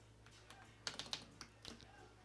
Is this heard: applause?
no